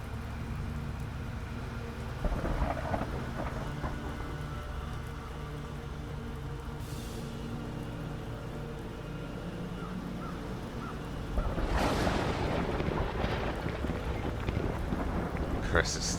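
A thunderstorm in The Black Grimoire: Cursebreaker game, with steady rain and low rumbling thunder, building to a louder crash of thunder toward the end, under occasional quiet speech.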